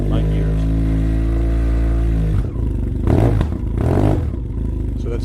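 A motorcycle fitted with a Two Brothers M2 carbon fiber exhaust and P1 power tip, loud and close, holding a steady high idle drone before two sharp revs that rise and drop back.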